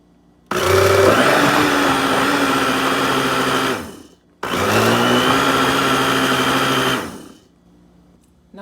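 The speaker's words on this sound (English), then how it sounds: "I'm gonna go ahead and blend these." Kitchen blender whirring loudly as it purées okra punch ingredients with vanilla and sweetened condensed milk, running in two steady bursts of about four and three seconds separated by a brief pause, with no voices.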